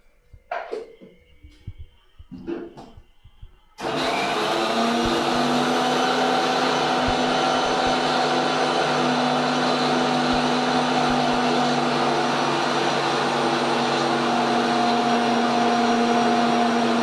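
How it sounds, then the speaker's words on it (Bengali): Electric mixer grinder whirring loud and steady as it grinds spices with cashews, after a few short knocks and clatters of loading the jar. "এখন এটা আমরা মিক্সারে এটা মশলা তৈরি করব"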